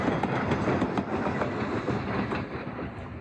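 A train at the Illinois Railway Museum rolls past with rhythmic clickety-clack wheel clatter over a continuous, moderately quiet rumble, with no talk.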